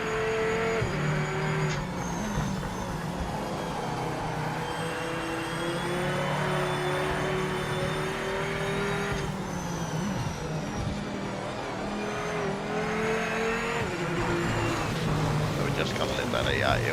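A race car engine in a racing video game revs and shifts through gears, its pitch rising and dropping under continuous talk, with occasional tire noise in the mix.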